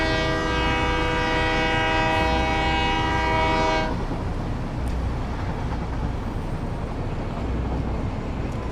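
A long, loud, steady train horn in a video game blares for about four seconds over a continuous rumbling train, which keeps rolling after the horn stops.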